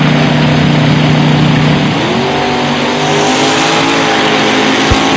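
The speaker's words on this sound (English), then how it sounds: "Bottom bolt dragster with some top bolt zoomies on it." Bottom bolt dragster making a drag racing run at a Woodburn, Oregon drag strip, a loud, close engine roar with a rising pitch that shifts midway as the car accelerates away, continuous with no talk.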